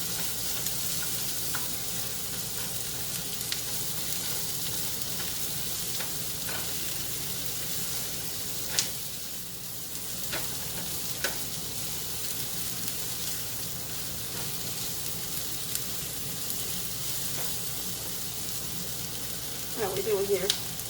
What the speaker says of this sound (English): Sauteed onions are good for a lot of things.